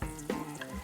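Oil sizzling in a pan, heating up to sauté garlic for pinakbet, a steady close frying hiss with a brief louder crackle partway through, no voices.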